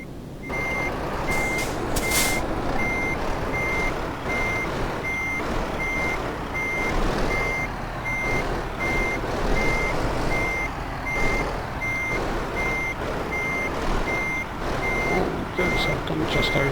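Repeated high reversing beeps from a truck parking in Euro Truck Simulator 2, steady evenly spaced pulses over a continuous engine rumble, with a brief hiss near the start.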